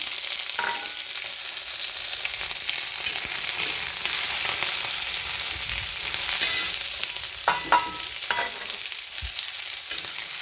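Diced onions go into hot oil tempered with a bay leaf, raising a steady bright sizzle throughout, broken by a few clinks and scrapes of a utensil against the pan, with nobody talking.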